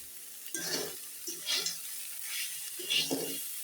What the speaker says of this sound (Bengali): এই যে আমি এটা ভালোভাবে ভাজি ভাজি করে নিতেছি